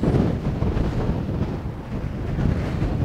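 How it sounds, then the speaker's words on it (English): Strong wind blowing outdoors in the American West, a loud continuous roar of buffeting across the microphone with no voices over it. "It's so windy though."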